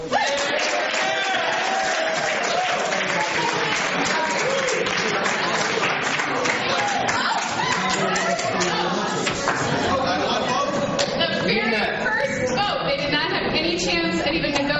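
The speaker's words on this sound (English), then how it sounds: "Well, there they are clapping." A conservative group claps and cheers, a dense steady wash of applause mixed with crowd chatter and voices that carries on without a break.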